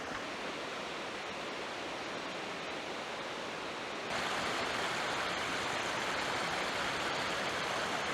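A waterfall in the Fratarica gorge roars as steady broadband rushing water, loud and close throughout, growing slightly louder partway through, with no voices.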